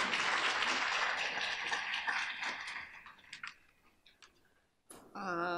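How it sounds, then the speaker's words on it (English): Conference audience gives a round of applause, dense clapping that thins out into scattered claps and then fades to near silence before a voice begins speaking at the end. "So we could give them a round of applause while we get Gillian up here and ready to start"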